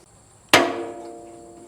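A fuel bowl lever turned on an antique Farmall Cub farm tractor gives one sharp metallic clank followed by a ringing, slowly fading resonance, close and alone.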